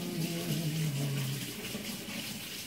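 A tap runs steadily while hands are washed during tofu and chicken ball prep. The flow makes a constant mid-level hiss and splash throughout.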